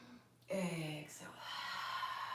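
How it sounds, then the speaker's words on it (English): A deep, slow inhale through the nose and mouth during a guided yoga breathing exercise, heard close and fairly soft, with a breathy swell that builds and sustains. "And inhale."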